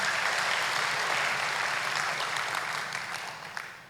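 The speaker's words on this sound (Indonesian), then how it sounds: "Yang setuju berikan tepuk tangan buat Tuhan Yesus." Church congregation applauding during a sermon, a broad even wash of clapping from many people that holds steady and then tapers off slightly toward the end.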